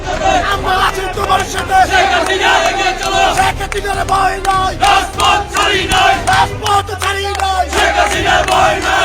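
A crowd of Awami League protesters at Rome's airport chanting slogans against Yunus, loud rhythmic shouted chants repeating in waves with a dense group of voices close by.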